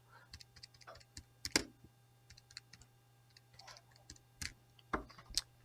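Keys clatter on a computer keyboard in quiet, irregular clusters of taps, with soft hum in the background.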